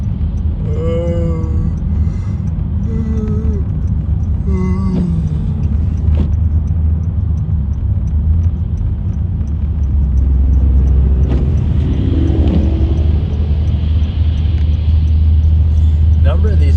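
Big trucks rumble past on a road with a deep, continuous low roar that swells toward the end, while someone talks over it.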